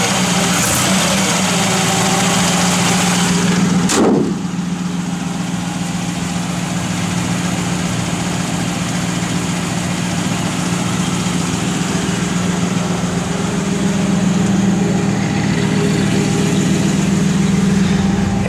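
A 1956 Chevrolet Bel Air engine idles steadily with a low, even rumble throughout, close and constant, with a brief sharp click near the start.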